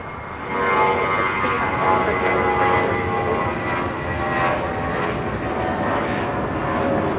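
A British Airways Boeing 787 Dreamliner at LAX gives off a steady, moderately distant jet engine drone, with faint talk in the background.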